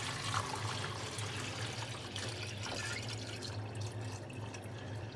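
Water carrier being poured out of a sprayer tank during sprayer calibration, a steady splashing trickle that runs continuously and evenly for several seconds, close by with no talking.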